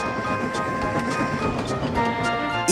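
A train rumbles steadily along the rails with a faint rhythmic clatter and a brief higher hiss near the end.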